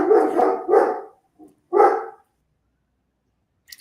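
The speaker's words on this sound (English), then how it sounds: "Sorry, my dog." A pet dog barks at home several times close by, a quick double bark, a pause, then a single loud bark, followed by a faint yip and near silence.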